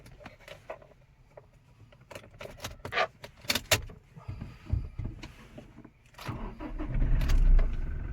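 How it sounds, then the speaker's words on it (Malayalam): Keys jangle and clicks sound inside a 2020 Toyota Innova Crysta before the engine cranks and settles into a low, steady idle near the end. "അപ്പോൾ ഇനി നമുക്ക് വണ്ടി പയ്യെ ഓണാക്കാം."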